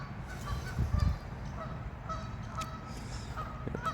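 Canada geese honking along a creek, a short cluster of calls early on, then scattered fainter honks at moderate distance over steady outdoor ambience, with other birds chirping faintly.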